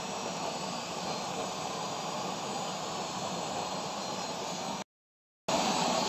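A stainless waste oil stove burns loudly during a test, a steady roaring jet-like rush that fills the space, broken by one brief cut of silence near the end, with no talk.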